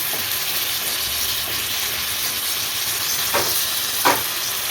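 Beetroot palya being stirred in a pan after grated coconut and coriander leaves go in, a steady frying hiss with a couple of soft spoon scrapes near the end and no talk.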